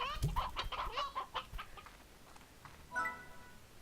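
Chickens cluck in the Slime Rancher video game, a burst of rapid close clucks and chirps followed by a pause and another short cackle, with no talk.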